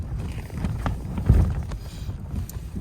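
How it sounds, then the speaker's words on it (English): Wind buffets the microphone at an outdoor camping spot, a continuous low rumbling gusty roar with a stronger gust in the middle. "Wind's picked up a little bit,"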